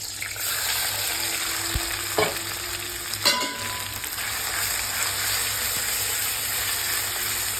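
Onions sizzle steadily in a kadai with turmeric, a constant close frying hiss broken by a couple of brief utensil clanks, with no voices.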